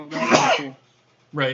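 A single loud sneeze bursts out, followed after a short pause by a brief spoken remark.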